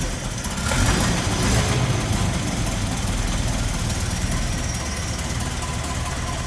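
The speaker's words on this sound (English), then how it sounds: "So there it is again, inline 8-cylinder." A 1932 Buick inline eight-cylinder car engine idles close by, a steady, loud mechanical chug with a rapid even rhythm that holds throughout.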